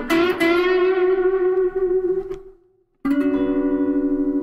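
Distorted electric guitar plays unison bends from an intro, a sustained bent note rising and held, fading to silence, then struck again loudly.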